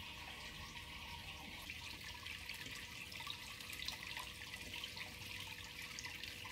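Liquid drains steadily inside a Brewzilla 65L brewing system, a soft, continuous watery hiss and trickle at low volume with no pauses.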